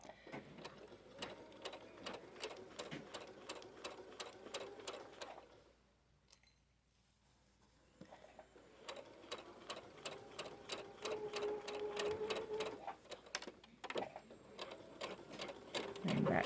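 Sewing machine stitching a pajama shirt hem, fast regular needle clatter in quick rhythmic runs with a brief pause, then resuming with backstitching, fairly close and moderately quiet.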